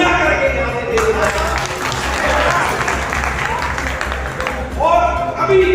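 Crowd applause at a political rally and workers' gathering in Iglas, Aligarh, a broad sustained wash of clapping and cheering lasting several seconds, with a voice speaking over it near the start and again at the end.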